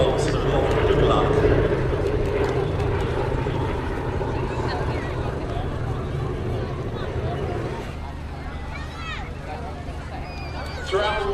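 A Boeing B-17 bomber flies over the Weston Air Festival, its steady engine drone loud and continuous throughout, with crowd chatter underneath.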